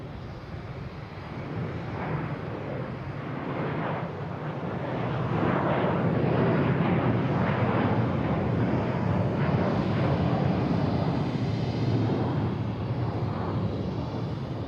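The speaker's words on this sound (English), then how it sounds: "Next taking off on 22 right, we have an American Airlines, an A321 heading to LAX." An American Airlines A321 takes off from runway 22 right at Boston Logan, its engine roar building from a distant rumble into a loud, sustained thunder that holds steady to the end.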